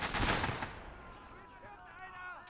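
A mortar fires in the Gates of Hell World War II battle game: one loud, broad boom hits at the start and decays over about a second. Faint game sounds trail behind it.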